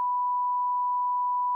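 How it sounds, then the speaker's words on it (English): A single steady censor bleep, a pure mid-pitched sine tone held loud and unbroken for about a second and a half, covering a spoken name in a casual conversation. "Beep that out before we get sued."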